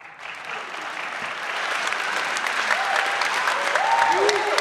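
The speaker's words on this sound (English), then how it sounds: "Please clap for me." Studio audience at a school science quiz contest applauding, a dense wash of clapping that swells and holds steady, with a faint voice underneath.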